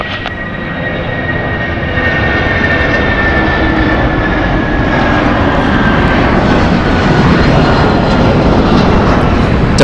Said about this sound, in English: Departing here is United Airlines, flight 1547, going to Washington. It's a Boeing 757.